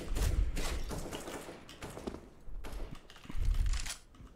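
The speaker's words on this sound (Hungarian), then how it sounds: "Mi az anyámat lövöldözött?" Gunfire in the Counter-Strike video game comes in several sharp bursts and thuds, irregularly spaced, with a lull in the middle before another volley.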